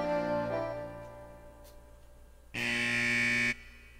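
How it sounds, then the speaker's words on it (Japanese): Alarm siren in the video game Sakura Taisen 2. A loud, harsh, steady buzzer tone blares alone for about one second after quieter game music. "警報"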